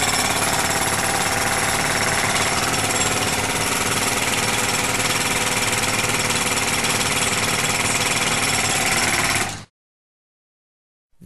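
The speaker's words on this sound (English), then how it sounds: "What are you doing with that air hammer?" Rapid, loud jackhammer rattle from an air hammer in an animated Legend of Zelda: The Wind Waker parody, hammering steadily for about nine and a half seconds before cutting off abruptly into silence.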